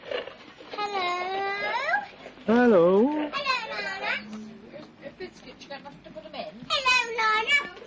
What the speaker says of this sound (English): Is there a cat down there?